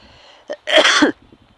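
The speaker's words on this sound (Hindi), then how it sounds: "सॉरी दोस्तों, थोड़ी खांसी आ रही है।" A single sharp cough, close and loud, with a brief catch of breath just before it.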